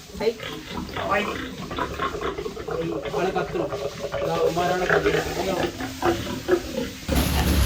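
Pigs on a pig farm grunt and squeal inside the pen, close by and continuous, with splashing and shuffling as the piglets are hosed down. People talk over the animal noise.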